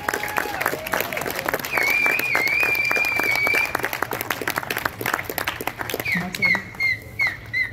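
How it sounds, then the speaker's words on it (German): Audience at the FriedenSee 2021 event applauds in a dense wash of clapping through the first half, thinning to scattered claps near the end, moderately loud and with no talk over it. "Bitte einen Applaus an eure Nachbarn"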